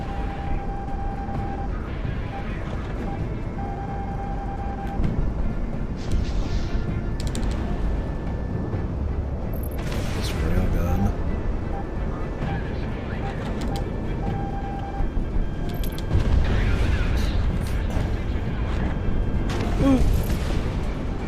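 Airstrike explosions go off in a video game as heavy rumbling booms mixed with beeping alert tones, with the loudest bursts near the middle and end, under ongoing voice chat.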